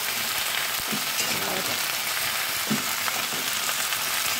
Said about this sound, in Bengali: আমি ভালো করে সবজিগুলো নেড়ে নিচ্ছি